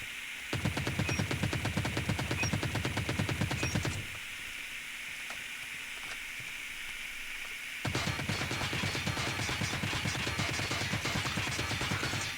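An ASM10 rifle fired from the hip in a video game rattles off two long, rapid automatic bursts separated by a few seconds of quiet, each shot a sharp, evenly spaced crack.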